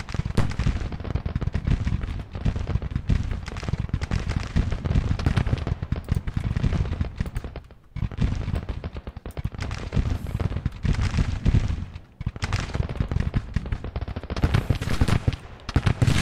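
Dense, continuous battle din of massed musket volleys and booming artillery fire in the Civil War strategy game Grand Tactician, loud and sustained with a couple of brief lulls, no talking.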